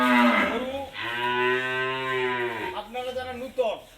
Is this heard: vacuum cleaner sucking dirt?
no